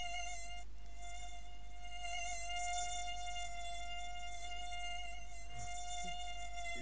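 A mosquito buzzes in a thin, high, continuous whine that hovers steadily close by with slight wavering, over a low background hum.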